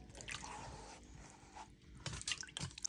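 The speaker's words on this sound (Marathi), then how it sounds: "त्यासाठी आपण स्वच्छ पाण्यात घोसाळे" Ridge gourd washed in clean water, with soft sloshing and irregular drips and splashes. The sounds are quiet, growing busier toward the end, and no one talks.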